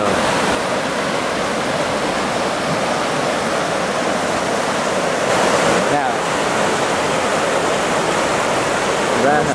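Floodwater rushes steadily around logs jammed against a bridge during a flash flood in Plainfield, Vermont, a loud, unbroken roar of churning water that fills the whole stretch.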